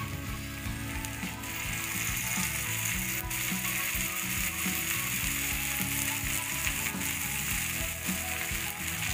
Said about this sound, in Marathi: आता यावरून आपण थोडंसं तेल सोडून घेऊया।